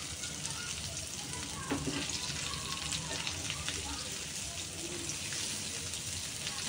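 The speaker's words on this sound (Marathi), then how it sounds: "जास्त काही तेल लागत नाही, कमी तेलामध्येच आपले हे भाजता येईल." Mushrooms shallow-frying in a little oil, giving a steady dense sizzle with a few faint clinks of a utensil, close and continuous, with someone speaking over it.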